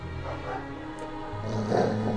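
A dog in Dragon Age II growls low, then gives a couple of short barks and whimpers, close and moderately loud.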